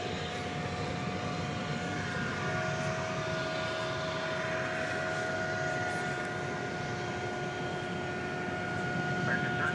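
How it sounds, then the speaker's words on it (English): Airbus A320 jet engines roaring in a steady, distant rumble as American flight 1371 departs DFW at night, a continuous drone with a faint tonal whine that holds for the whole stretch. "It's an Airbus A320."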